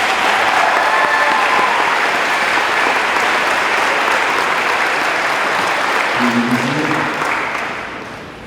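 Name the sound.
applause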